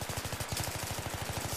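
Rapid automatic gunfire in Battlefield 3, a fast even burst of about two dozen shots in quick rhythm, moderately loud and continuous with no talk over it.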